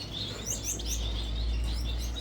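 Gouldian and Bengalese finches in a breeder's coop give a few quick, high chirps close by over a steady low hum.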